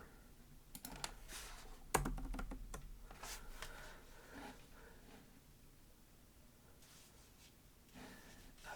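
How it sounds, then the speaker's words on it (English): Typing on a computer keyboard during a landing-page design session, with quiet bursts of clicking keys, one sharper tap near the start, then sparse soft keystrokes. "just typing stuff."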